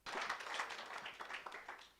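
An audience claps for a team walking up to present at a hackathon award ceremony, a steady two-second burst of close, dense applause with no voices over it.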